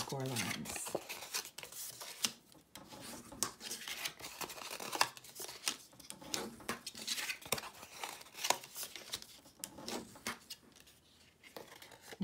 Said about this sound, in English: Now I'll fold and burnish on each one of those score lines.